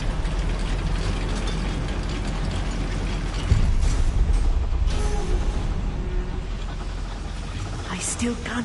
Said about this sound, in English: Look at this lift. Impressive workmanship for so simple a device.